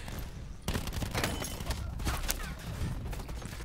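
Rapid automatic gunfire from Black Ops 4 open beta gameplay rattles in dense, continuous bursts with sharp cracks, loud and close throughout.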